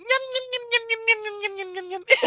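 A voice imitates a kitten lapping milk, a quick series of soft, rhythmic chirping syllables held on one steady pitch, ending in a brief breathy burst.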